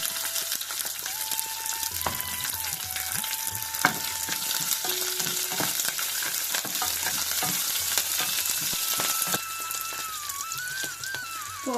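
Urad dal, mustard seeds, red and green chilies and curry leaves sizzle in hot oil for an okra fry, a steady crackling fry with stirring scrapes and a faint thin whistle-like tone drifting above.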